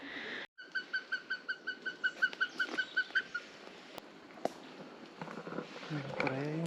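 A rapid series of repeated whistled cock-of-the-rock calls, about fifteen evenly spaced notes, played from a phone speaker near Cusco, Peru, then rustling and faint background noise.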